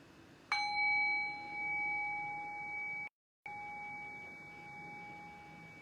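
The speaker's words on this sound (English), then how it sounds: "Allow the fading bell to guide your thinking mind into silence." A single meditation bell is struck once, ringing as a clear sustained tone that slowly fades toward silence over a quiet background, with a brief dropout midway.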